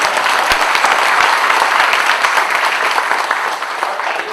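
Dense, steady audience applause in a lecture hall, many hands clapping loudly and continuously, easing slightly toward the end.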